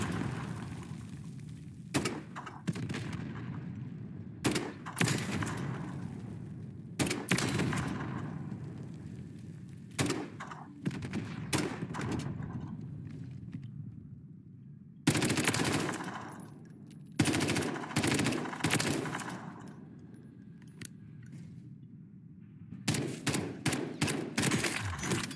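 Automatic gunfire in the shooter Warzone rattles out in repeated loud bursts of rapid shots, separated by short pauses over roughly twenty-five seconds, with no talking.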